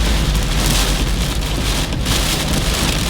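Heavy rain drums steadily on a car while driving at night, a dense, loud, unbroken wash of drops with no voices.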